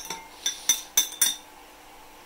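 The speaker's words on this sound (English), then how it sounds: "So let's smash the tofu." Tofu is smashed with salt, garlic and parsley for a vegan Samogitian potato pancake filling, giving five sharp, close clinking knocks of a utensil against a bowl in quick irregular succession, then quiet.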